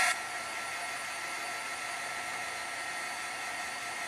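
A hair dryer blows steadily over a wet watercolor floral painting on paper, a constant close, loud airy whoosh that holds evenly throughout with no talking.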